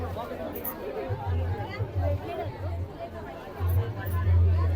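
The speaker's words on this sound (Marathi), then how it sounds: "खूप गर्दी मित्रांनो, प्रचंड गर्दी, कारण आज रविवार असल्यामुळे खूप गर्दी बघा." Large, dense crowd chatter at the Aagri Mahotsav festival in Dombivli on a busy Sunday: a steady babble of many overlapping voices, close and continuous, with louder swells near the end.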